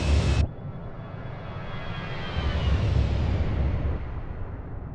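Fenix Airbus A320 jet engines in Microsoft Flight Simulator 2024, heard during a night flight from Newcastle to Amsterdam as a steady, fairly quiet broadband roar that swells gently and fades after a brief sharp burst at the start.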